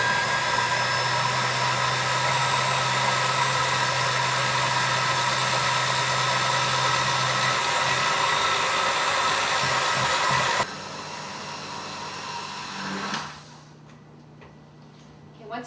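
A blender purees cooked butternut squash in a loud, continuous whirring drone that runs for about ten seconds, then drops to a lower hum and fades out.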